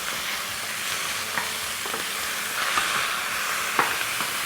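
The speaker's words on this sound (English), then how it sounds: "the onions, which are fried already. So I am going to roast it for about 10 minutes." Lamb and already-fried onions roast in a pot, giving a continuous loud sizzle and hiss with occasional small crackles and stirring scrapes, heard close with no voices.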